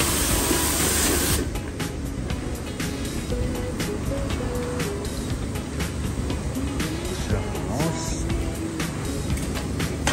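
A car wash sprayer hisses loudly and steadily as it lays foam onto a car, a dense continuous spray close by with small bursts and shifts in pressure, no speech over it.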